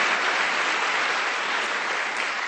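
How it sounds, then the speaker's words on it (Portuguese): A church congregation applauds in a dense, steady wash of clapping that holds evenly loud throughout, close and continuous, with no single voice standing out. "vamos aplaudir o nome dele."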